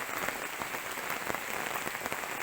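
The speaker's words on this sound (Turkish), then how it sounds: "Yağmurun sesini duyuyorsunuz" A steady downpour hammers around a mountain shelter tent in the forest, a loud, even crackling wash of raindrops, close and unbroken.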